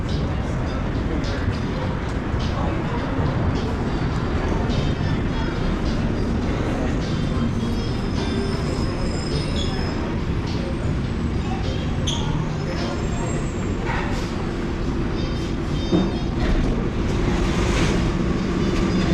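An airport people mover train rumbles steadily along its track with soft clicks and rattles, close and continuous; people talk faintly in the background.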